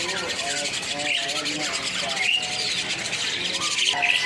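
Hybrid jalak starlings at a busy bird-market kiosk give repeated short chirps and whistled calls over a steady rubbing, scratchy background, fairly close and continuous.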